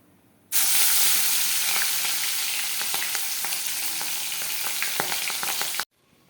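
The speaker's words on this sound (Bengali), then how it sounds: "দেখো এই যে এই যে সব মাছ ভাজা হয়ে গেছে" Pabda fish fry in a pan with a loud, dense, close sizzle that starts abruptly and crackles steadily for several seconds before cutting off, with no talking.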